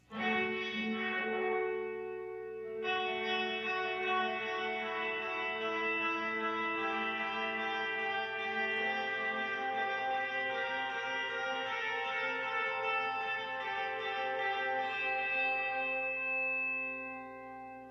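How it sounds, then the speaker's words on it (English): Electric guitar notes drenched in heavy reverb from a Line 6 DL4 MKII pedal, a sustained shimmering wash of ringing tones that swells, re-strikes after a brief gap, and lingers in a long decaying tail. "So I'm just going to swamp this out with reverb on its own."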